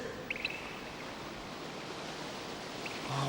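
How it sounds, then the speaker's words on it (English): Cartoon waterfall: a steady, broad rushing hiss of falling water, fairly soft and continuous throughout, with faint brief tones near the start and a slight swell at the end. "A waterfall."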